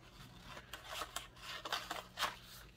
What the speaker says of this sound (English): what we need is to cut a line, then cut out